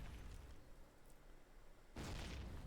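Grenade blasts in the WWII shooter Call of Duty: United Offensive during a multiplayer match: a low rumbling backdrop, then a loud broadband explosion bursting in near the end and sustaining to the close.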